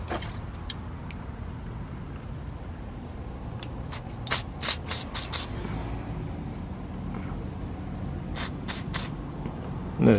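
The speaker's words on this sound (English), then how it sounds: "I'm going to take and spray my connector here with some electrical spray" Electrical parts cleaner sprays onto a vehicle's wiring connector during front wheel hub replacement, in two clusters of short, sharp hissing bursts over a low garage hum.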